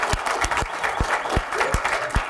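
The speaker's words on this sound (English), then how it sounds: "All right, clap it up." A crowd at an event claps in a loose rhythm, with distinct sharp individual claps standing out over a denser patter for a couple of seconds.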